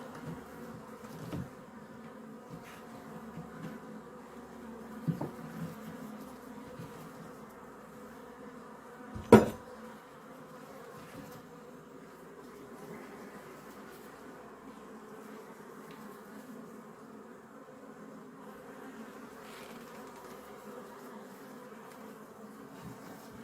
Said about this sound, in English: this hive body is full of bees